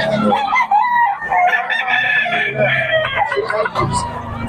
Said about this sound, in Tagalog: Maganda ng manok ni boss, oh.